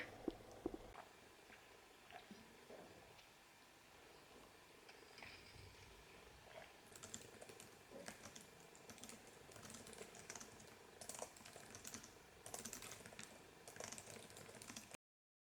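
Computer keyboard typing while writing a book's last chapter, quiet irregular key clatter that thickens into denser bursts over the second half, with no talk.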